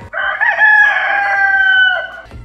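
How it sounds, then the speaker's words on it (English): A neighbour's rooster crows loud and close in one long, strained cock-a-doodle-doo lasting about two seconds. "your neighbor's chickens keep cooing in"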